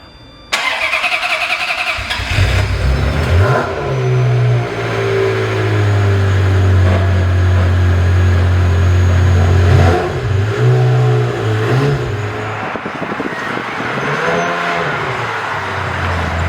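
A Ferrari F355 Berlinetta fires up and pulls away, its engine note climbing and falling through loud revs and gear changes, heard close and dominant with no talk over it.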